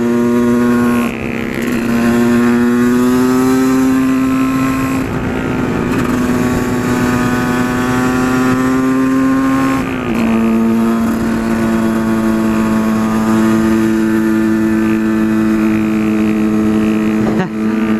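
Yamaha WRX 125 motorcycle fitted with an Arrow exhaust, its engine labouring uphill with a steady, loud drone that dips and recovers in pitch, close and continuous throughout.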